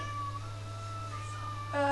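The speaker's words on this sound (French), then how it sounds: "désolé, il y a mon chat qui miaule." A house cat meows indoors, a drawn-out tonal cry rising near the end, heard alone over a steady low hum.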